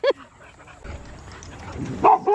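Small dog giving a couple of sharp short barks at the start and again near the end, with soft whimpering between them, up close in a home.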